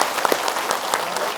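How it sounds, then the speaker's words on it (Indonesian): Audience applause for an Islamic preacher (ustadz) taking the stage at a religious gathering: a steady wash of many hands clapping, dense and fairly close, with a few sharper individual claps standing out. "Tepuk tangan untuk Pak Ustadz Zaki Muhammad."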